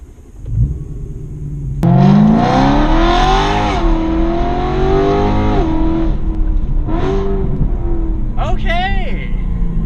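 A 2009 BMW M3 engine cranks and catches at about two seconds, then revs up loudly and settles into a strong idle, with more throttle blips near the end.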